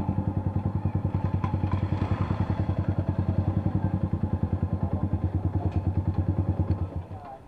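A motorcycle engine idles close by with a steady, rapid low thumping that runs evenly for about seven seconds, then cuts out abruptly as the engine is switched off, leaving brief quiet.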